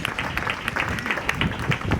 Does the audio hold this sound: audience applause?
yes